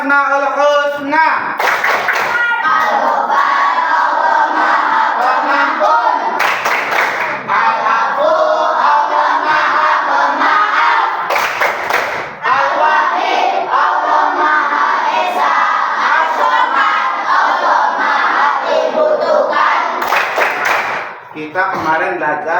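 Schoolchildren chant the Asmaul Husna in unison with loud rhythmic hand claps, a continuous group chant broken by periodic bursts of sharp clapping from the whole class.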